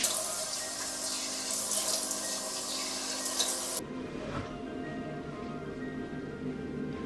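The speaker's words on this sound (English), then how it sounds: "I just rinse my face in warm water" Warm tap water runs steadily into a sink as a face is rinsed during a night skincare routine, a continuous close splashing flow that drops off sharply near the midpoint before a softer trickle continues.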